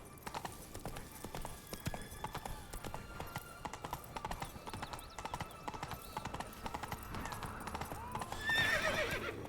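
A horse gallops with fast, steady hoofbeats in The Witcher 3, close and continuous throughout, ending with a loud neigh in the final second.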